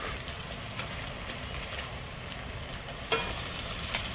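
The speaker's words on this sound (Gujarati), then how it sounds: "હવે એમાં આદુ મરચી નાખી દઈશું." Ginger and chili are tossed into hot oil in a pan for an aloo paratha filling, and a dense, close sizzle with stirring scrapes runs throughout, with a sharper burst partway through.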